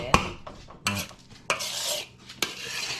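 Metal spoon scraping and clanking around a big pot of meat on a stove, with four distinct strokes about every half second to second, close and fairly loud, with a faint sizzle between them.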